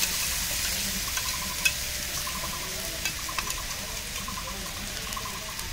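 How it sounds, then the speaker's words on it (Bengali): Blended tomato and dried red chili paste sizzling in a pan, a steady close frying hiss with faint bubbling pops and a few light clicks throughout. "আগে থেকে ব্লেন্ডার করা টমেটো এবং 2টো শুকনো মরিচ পেস্ট দিয়ে দিলাম"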